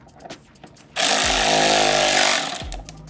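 Power tool tightening bolts on a race windscreen fitted to a CFMoto 675SS motorcycle, a loud, sustained whirring burst of about a second and a half that starts abruptly and winds down, with faint handling sounds around it.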